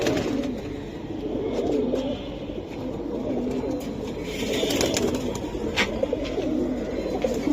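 Silver Giribaz pigeons coo continuously in overlapping rolling phrases, near and steady, over a busy background murmur.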